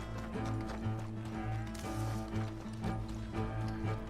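Horse hooves in the video game Red Dead Redemption 2, a quiet, regular clip-clop of a trotting horse with a steady rhythm under a low hum of game background sound.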